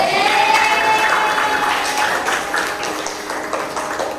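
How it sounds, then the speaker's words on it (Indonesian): Students in a science classroom clap for a classmate, a steady mid-level patter of many hands lasting several seconds, with a faint sustained tone early on and no clear talk. "Tepuk tangan buat Juna"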